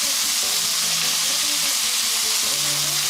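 Tomatoes heating in a pan for smoky chorizo salmon give a steady, close sizzle with faint stirring scrapes and no talk.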